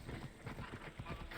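Horse galloping in the video game Assassin's Creed Odyssey, a quick rhythmic clip-clop of hooves at moderate distance, fairly quiet and steady throughout.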